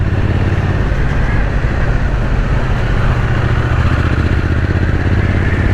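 A 2024 Triumph Speed Twin 900 motorcycle pulls from low revs, its engine rumbling loud and steady under strong wind noise as it rides.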